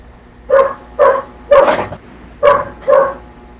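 A neighbour's dog barks five times in quick succession, loud and fairly close, with the barks coming in a loose rhythm and no talking over them.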